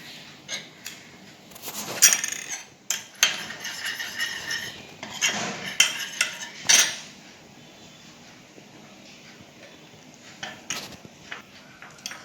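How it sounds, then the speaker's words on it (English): Turmeric paste mixed and stirred in a small dish, with close clinks and scrapes of a utensil against the dish in irregular bursts, then quieter stretches with occasional light taps. "First, make turmeric paste."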